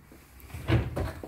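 A cabinet drawer on metal slides, part of custom kitchen joinery, opens and shuts in one short, close wooden rumble and knock.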